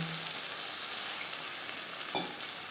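Bean seeds frying with spices in a pan for a koi fish curry give off a soft, even sizzle, with one brief scrape or clatter of stirring near the end.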